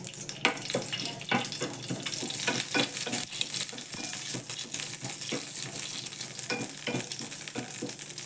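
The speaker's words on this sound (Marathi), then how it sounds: "खसखस भाजून घेते" Poppy seeds dry-roasting in a pan while making panchkhadya modak filling, giving a steady dry rustle with repeated short scraping strokes of stirring, close and moderately loud, with no talking.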